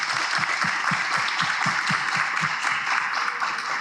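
Steady applause from an audience at a Hay Festival literature panel, a dense, even wash of many hands with soft low thumps running through it and no pause for nearly four seconds.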